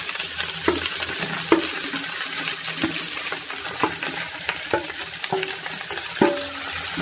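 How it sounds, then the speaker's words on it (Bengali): Chopped radish, eggplant, tomato and greens stir-fry in a pan: a steady sizzle with regular scraping and clattering strokes of a spatula, close and moderately loud, with no talking. "আমি এটাকে একটু নাড়িয়ে নিচ্ছি, এই 1 মিনিট মতো একটু ভাজা ভাজা মতো করে নিচ্ছি।"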